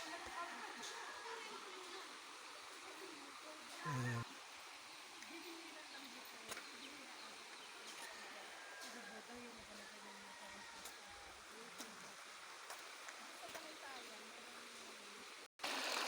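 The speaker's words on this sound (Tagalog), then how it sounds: "Pakinig natin yung uh, lagaslas ng uh, tubig" Floodwater rushes down a stream near a rural crossing used by indigenous villagers, a continuous even roar of flowing water heard from close by, fairly soft and unbroken apart from a brief bump in the middle.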